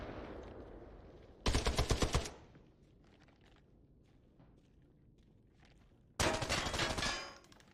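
Video game gunfire shot through a wall comes in two loud bursts of rapid automatic fire, each lasting about a second, separated by several seconds of quiet with faint footstep-like thuds.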